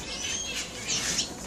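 Wild birds inside a newly built bird trap, giving faint high squawks and chirps over a soft background hiss, brief and somewhat distant.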